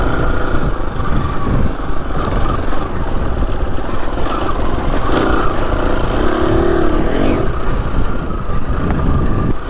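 Husqvarna FE 250 street-legal dirt bike engine running steadily in second gear on single track trail, a loud continuous engine drone with slight rises in revs and no talk.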